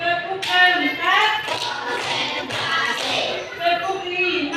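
Primary school class clapping together in a counted rhythm, a handful of blended tapping claps from a group of children, close and fairly loud under sustained chanting and voices.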